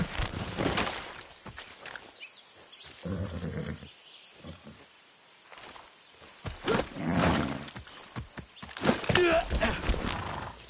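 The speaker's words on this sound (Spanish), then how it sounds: "¡Qué buen caballo!" A horse in the Far Cry 6 video game gallops with clip-clop hoofbeats and lets out neighs and snorts, loud and close, with bursts of activity separated by quieter stretches.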